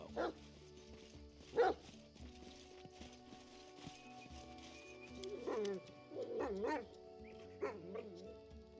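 A dog barks in the Pathfinder: Kingmaker role-playing game, giving a few short barks and yips spaced across the scene over low background music.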